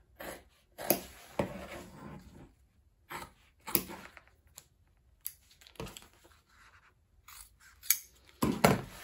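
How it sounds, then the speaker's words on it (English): Scissors snip through cork fabric repeatedly in short, close bursts separated by brief pauses, with faint rubbing of material between cuts. "using scissors, I'm going to cut these boxes out of both"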